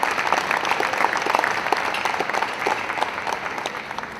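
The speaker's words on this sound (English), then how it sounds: "let's give Ron a big round of applause" A room full of people claps steadily, a dense patter of applause that holds for several seconds before easing slightly.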